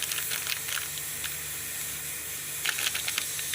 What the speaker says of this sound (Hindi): हल्के हल्के बबल्स आना शुरू हो गए